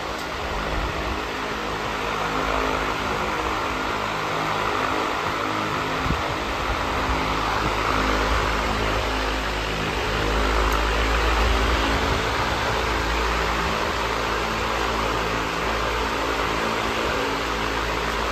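A DoIt Best 30-inch high velocity pedestal fan runs at full speed, giving a steady, loud broadband whoosh of rushing air over a low motor rumble, constant and unbroken throughout, heard from close behind the fan.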